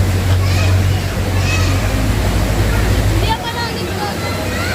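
River water flows in a steady, full rush with a continuous low roar, while children's voices and other talk come through over the top near the end.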